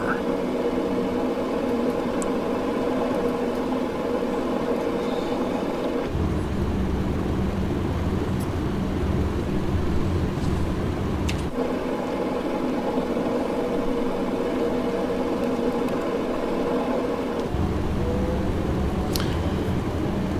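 Four-engine piston airliner in flight, a Boeing B307 or DC-6B in a flight simulator, engines droning steadily and loudly with a constant hum that shifts slightly in tone several times, while a voice talks over it.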